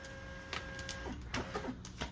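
Rollo label printer feeding labels: a quiet mechanical whir with a steady tone and soft clicks and ticks as the stock advances, close by and low in level.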